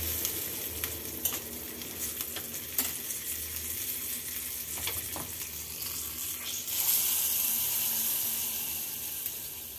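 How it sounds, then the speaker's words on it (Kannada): Curry leaves fry in hot oil with a soft, steady sizzle, punctuated by occasional pops and stirring taps, growing a bit brighter and louder toward the end. "ಸ್ವಲ್ಪ ಕರಿಬೇವು ಇದನ್ನ ಸ್ವಲ್ಪ ಫ್ರೈ ಮಾಡ್ಕೊಂಡು"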